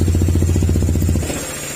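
A Honda ADV160 motor scooter engine with a remapped ECU idles with a low, even putter, fairly close, then drops away into quieter background noise.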